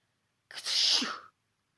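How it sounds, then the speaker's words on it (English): A single sharp sneeze, short and close, in otherwise quiet surroundings. "Presently, Peter sneezed."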